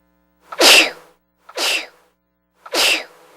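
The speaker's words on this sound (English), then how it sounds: "Is sneezing making you miserable?" Three sharp sneezes, each a loud burst of breathy noise, spaced about a second apart with silence between them.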